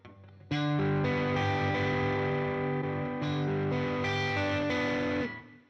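An electric guitar through an overdrive pedal, a $450 Duellist or a $119 clone, rings out a loud, crunchy passage of sustained chords and notes, close up with no speech.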